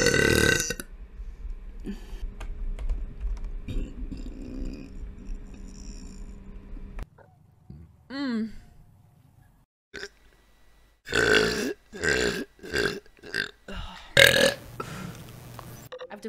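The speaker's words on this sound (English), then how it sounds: "That burp," Women streaming on Twitch let out a run of loud, close belches, several bursts clustered near the end with short gaps between them, after a stretch of quieter background noise.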